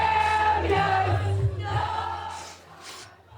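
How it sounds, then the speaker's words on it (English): The UCLA community and greater Los Angeles crowd cheer for their national champion Bruins, a dense roar of voices that is loud at first and gradually fades. "Now, the UCLA community, the greater LA community, cheering for their national champions."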